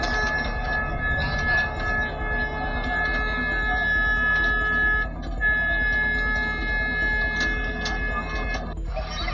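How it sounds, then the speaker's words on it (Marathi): A small children's amusement train at the Jotiba temple, Wadi Ratnagiri, runs steadily with a continuous mechanical hum and faint rhythmic clatter, plus a few brief high squeaks and ticks. "बच्चे कंपनीसाठी ही रेल्वे धावत आहे"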